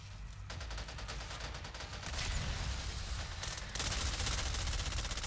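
A scoped Uzi firing in a video game, sustained rapid automatic fire with a fast, even rhythm that runs the whole way and grows louder in steps, with no pauses.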